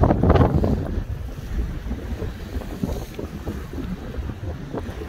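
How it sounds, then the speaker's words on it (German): Strong icy wind on the coast of Thassos, Greece, in late March, gusting hard against the microphone with a loud rush at the start and steady roaring buffeting after, with waves and water faintly audible beneath. "Eisig kalter Wind."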